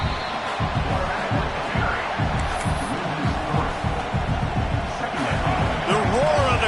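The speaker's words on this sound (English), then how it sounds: "The roar of the crowd trying to fuel this defense to keep them pinned in their own end." A football stadium crowd roars as a dense, sustained wall of noise during a game, with a play-by-play announcer talking over it and a brief whistle-like rise near the end.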